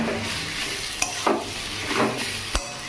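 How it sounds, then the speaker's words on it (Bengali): Sugar being stirred into banana flower (mocha) curry in a pan, a soft sizzle underneath with a few scraping strokes of a spoon and a couple of light clinks against the pan. "চিনিকে একটু নাড়াচাড়া করে দিই"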